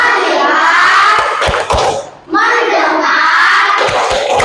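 Children in a grade 5 classroom perform a rhythmic clapping chant together, sharp hand claps punctuating loud group voices close by, with a brief dip in the middle before the chanting resumes.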